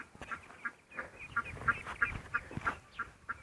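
A duck with ducklings near a rural house: a run of short, rapid quacks and peeping calls in an uneven rhythm, close and moderately loud, with no talking.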